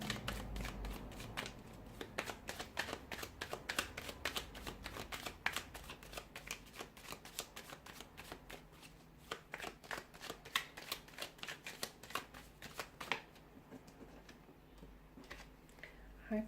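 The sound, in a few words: shuffling a deck of cards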